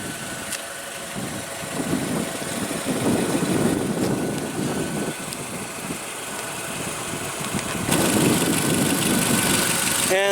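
A 2014 Scion tC's 2.5-liter inline four-cylinder engine idles steadily at close range, a low rumbling hum with a faint surge partway through, and indistinct voices murmur faintly beneath it.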